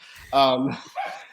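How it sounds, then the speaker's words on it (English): Dogs barking in the background, one sharp bark followed by a shorter one, heard under someone talking. "sorry if you hear my dogs in the background"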